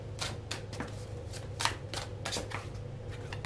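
Tarot cards are shuffled and drawn by hand in a quick series of crisp riffling and flicking bursts, close up over a faint low hum.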